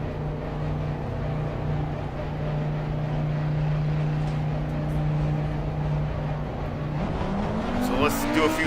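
Audi GT race car in the racing sim Assetto Corsa Competizione, its engine droning steadily at a held pitch, then revving up near the end as a voice talks faintly underneath.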